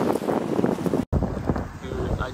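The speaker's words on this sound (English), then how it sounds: "Just hate that it's windy right now." Heavy wind buffeting the microphone in low rumbling gusts outdoors in Los Angeles, broken by a brief dropout, with a voice faintly underneath.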